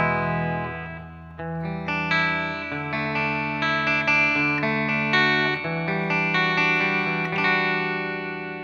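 Electric guitar, a Les Paul Studio on the neck pickup, plays a clean tone with a little reverb from a Holy Grail pedal in the effects loop, ringing chords and notes that sustain and overlap steadily without talk.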